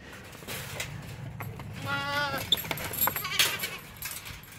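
Goats at a small homestead bleat in a short, wavering call near the middle, heard over steady outdoor background noise with some faint rustling.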